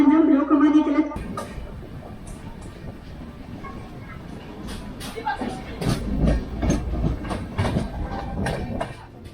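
A passenger train at a railway station in India, heard as a close, rumbling, clattering wagon noise with faint hiss, mixed with station bustle and voices.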